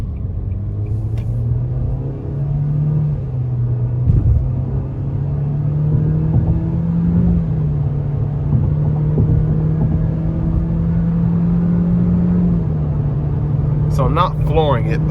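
A 2024 Nissan Kicks SR in sport mode accelerates moderately to merge, its engine holding a steady droning rumble that rises and dips slightly through the pull, with a voice speaking briefly near the end.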